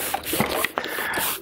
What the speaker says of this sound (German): Also jetzt natürlich mit der kleinen Flasche müsste man hier eine 1/2 Stunde sprühen.